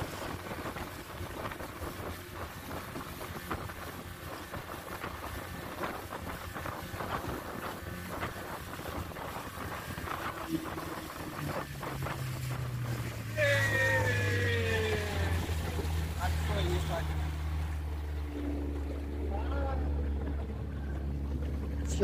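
A motor boat on the Chenab River at Head Marala drones steadily under strong wind buffeting the microphone, the engine note dropping and deepening near the end as the boat slows toward the landing.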